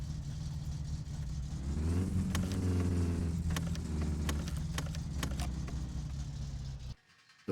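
In the My Summer Car game, a 1976 Datsun's failing starter motor cranks with a low, labored whirring drone and faint rattling clicks, close and steady for several seconds before cutting off abruptly.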